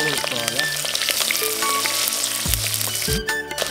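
Cumin and mustard seeds crackle and sizzle in hot oil for a Telangana pappula pulusu, with steady loud frying, some music-like tonal lines above it and a short scrape partway through.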